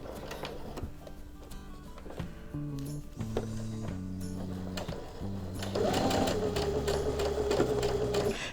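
A sewing machine back stitching around a curve on a small fabric cord organizer, a continuous close mechanical whirr with shifting motor pitch and a rising tone near the end.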